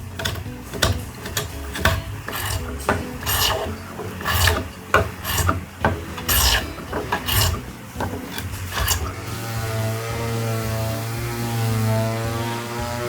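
A hand rasp files a curved hardwood bracket in quick, rhythmic back-and-forth strokes, close and crisp. The strokes then give way to a steady low drone.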